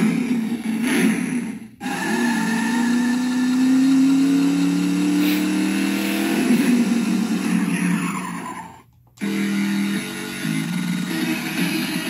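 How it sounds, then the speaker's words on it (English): Road Rippers Warp Riders Ford Mustang toy car with a speaker modification playing electronic engine revs, rising whines and screeching skids through its small speaker, loud and close, cut by two brief silences. "Road Rippers, Warp Riders, Ford Mustang with speaker modification"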